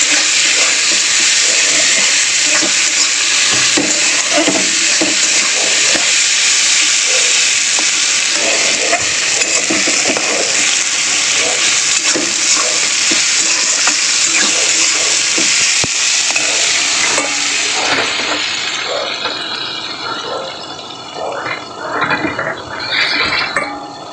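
Neem leaves and eggplant fry together in hot oil, giving a loud, continuous sizzle with stirring scrapes that eases into softer, uneven crackling toward the end.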